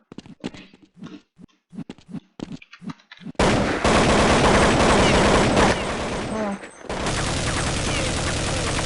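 Loud sustained gunfire from Counter-Strike 1.6 in a jailbreak server, rapid bursts filling the second half after several seconds of spoken voice chat, with the shooting running almost continuously and briefly pausing once.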